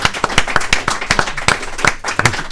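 An audience at a comedy festival in the Var claps for a 14-year-old, a close, lively round of individual hand claps in a quick, uneven rhythm with no talk over it.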